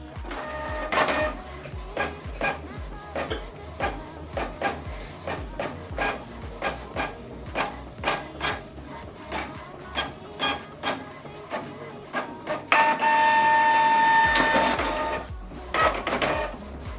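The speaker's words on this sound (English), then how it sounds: "So this document now, we're going to print it on both sides." Canon Pixma 3600 inkjet printer printing a document double-sided, with repeated mechanical clicks and paper-feed thumps in a steady rhythm and a louder whirring motor stretch near the end, close and clear with no talking.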